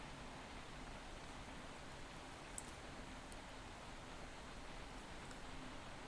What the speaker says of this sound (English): But yeah, so it's been raining, like,